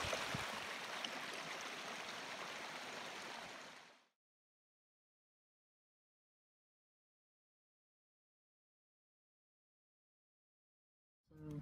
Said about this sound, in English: Got some water boiling.